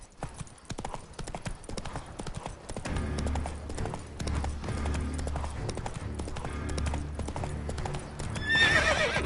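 Roach, a horse in The Witcher 3, gallops with a steady rapid clip-clop of hooves at close range, joined by a loud whinny near the end, over a low rumbling game background.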